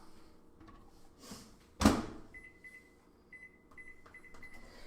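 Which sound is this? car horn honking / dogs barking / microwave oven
microwave oven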